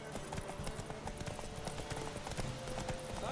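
Rapid, steady hoofbeats of galloping horses in The Witcher 3: Wild Hunt, continuous and fairly loud, with a faint tonal hum running beneath the clatter.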